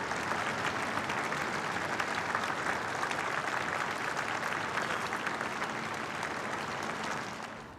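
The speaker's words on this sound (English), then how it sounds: "The departure of the Queen's coffin from Edinburgh St Giles Cathedral was the final act of a goodbye here, to public applause." Public applause from a large outdoor crowd in Edinburgh as the Queen's coffin departs St Giles Cathedral, a sustained, even wash of distant clapping that holds steady before fading slightly at the end.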